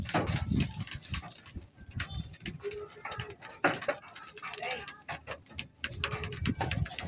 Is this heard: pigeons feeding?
yes